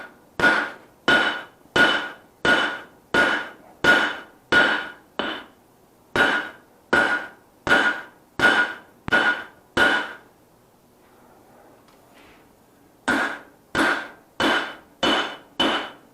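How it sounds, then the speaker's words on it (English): A six-pound forging hammer strikes steel stock on the flat face of an anvil while paring knives are forged, ringing in a steady run of loud, evenly spaced blows, then a pause of a few seconds before the strikes resume. "Still using the 6-pounder, but now I'm hitting on the flat instead of the horn or the edges of the"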